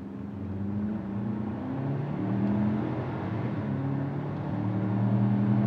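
A 2024 Ford Ranger Lariat in tow haul mode pulls hard from a stop while towing, its engine droning steadily with rising tonal whine and road rumble, heard from inside the cab at moderate level.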